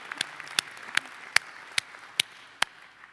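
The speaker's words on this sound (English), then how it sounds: "You can applaud." A few scattered hand claps come from the audience at a university commencement ceremony. About seven sharp, separate claps sound quiet and somewhat distant over a hushed hall.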